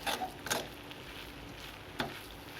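Spatula stirring crushed coconut, cumin, onion and bird's eye chilli into a banana flower stir-fry, with a few sharp scrapes against the pan over a soft, steady sizzle, close by.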